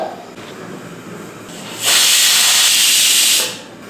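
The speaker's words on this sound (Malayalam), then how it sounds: "ഒരഞ്ച് വിസിലായി ഇനി നമുക്കിതങ്ങ് നിർത്താം" A pressure cooker holding green gram curry lets out a single loud, sharp hiss of escaping steam lasting about a second and a half, rising suddenly and tapering off, after quiet kitchen background.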